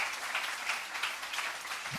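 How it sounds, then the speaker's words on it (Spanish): A church congregation applauding together, a dense, even patter of many clapping hands heard at a slight distance, sustained throughout with no clear voices. "¿Cuánto le pueden dar un aplauso al Señor"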